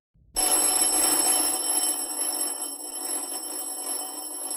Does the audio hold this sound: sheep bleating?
no